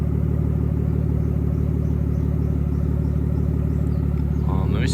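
A Nissan R34 GTT idles with a low, steady engine and exhaust rumble that holds up close the whole time, with faint voices underneath.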